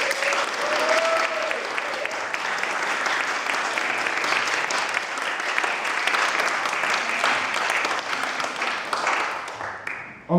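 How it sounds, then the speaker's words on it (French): Wedding guests in Paris break into warm, sustained applause during the vows, a dense, even roar of clapping lasting about ten seconds, with faint voices mixed in and a sudden louder sound at the very end. "On peut l'applaudir, je crois."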